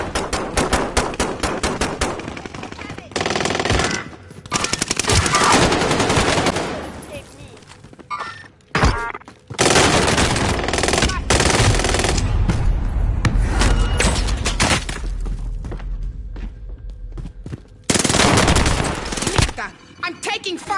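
Gunfire from a PS4 first-person shooter game rings out in rapid bursts of shots and automatic fire, loud and near, broken by short pauses, with game voice callouts between.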